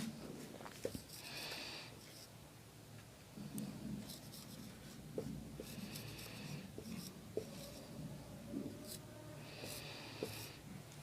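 Handwriting on a board or paper during a Hindi polity lesson, with scratchy pen or chalk strokes coming in bursts and pauses, fairly close, and no speech over it.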